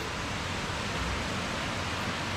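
Kuang Si waterfall near Luang Prabang, a steady broadband hiss of falling water, constant and fairly soft, with no voices heard.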